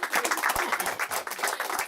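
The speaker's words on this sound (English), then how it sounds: "I think we need to give a big round of applause to this." Applause and clapping from an audience at a Saratoga City Council event, a dense, steady patter of many hands filling the room for about two seconds.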